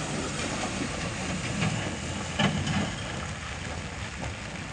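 A Hino truck engine labours hard while accelerating up a muddy, rocky slope, producing a loud, continuous rumbling roar with noisy swells and surges, close and dominating the whole stretch.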